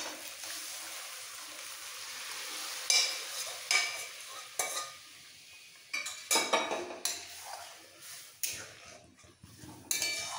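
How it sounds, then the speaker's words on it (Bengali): Spinach is sautéed with dry spices in a pan, heard as soft, quiet sizzling punctuated by a string of sharp spatula scrapes and clinks against the pan, coming in irregular bursts. "এই ড্রাই মশলার সাথে পালং শাকটা একটু কষিয়ে নিয়ে"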